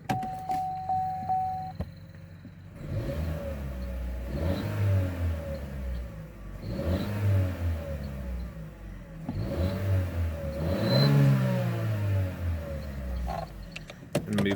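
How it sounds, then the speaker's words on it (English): A parked 2013 Chevrolet Cruze RS engine revs up repeatedly in a steady rhythm, rising and falling about four times, loud and close, with no talking. "We'll do a couple revs here."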